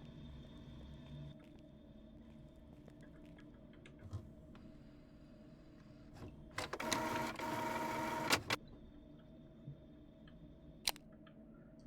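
An office printer in a call center hums at a low level, then gives a loud burst of printing for about two seconds before dropping back to quiet background noise with a few faint clicks.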